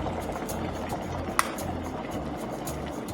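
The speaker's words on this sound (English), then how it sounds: "you see the boiling water" Steady bubbling rumble of water at a rolling boil, continuous and close, with one sharp click partway through.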